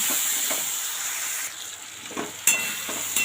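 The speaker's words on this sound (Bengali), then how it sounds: "যে জল দিয়ে গুলিয়ে রেখেছিলাম সেটা দিয়ে দিলাম। ভালো করে কষিয়ে নেব।" Ground spice paste mixed with water frying in a pan, a dense hissing sizzle that briefly dips, then surges again with a couple of scraping stirs and clatters, close up and without talking.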